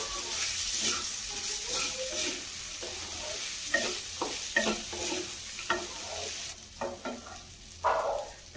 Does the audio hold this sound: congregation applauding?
no